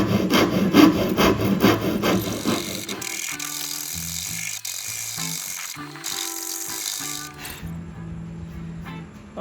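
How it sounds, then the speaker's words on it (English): A hand rasp files the edge of a pine guitar body, making loud, gritty back-and-forth scraping strokes up close that thin out into lighter, intermittent rubbing toward the end. "I'm just gonna use my rasp here. And we're just gonna file that off."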